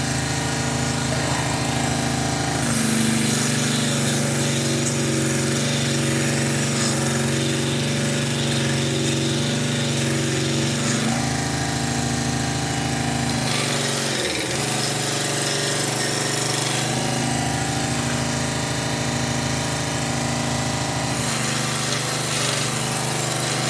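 A power polisher buffs a surface with polishing compound: a loud, continuous machine whine and drone that holds steady throughout, shifting in pitch and load a few times as pressure changes.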